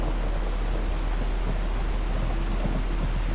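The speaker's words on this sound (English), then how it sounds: "See it in the rad storm." A radiation storm in Fallout 4 sends heavy rain and rolling thunder in a dense, continuous roar, loud and close with no voices.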